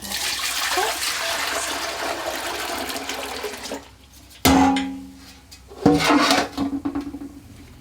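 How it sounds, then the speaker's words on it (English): Natural dye liquid is poured back into a pot in a loud, steady splashing rush for about four seconds, followed by sharp clunks and knocks from the container. "we're going to return the liquid back into the pot"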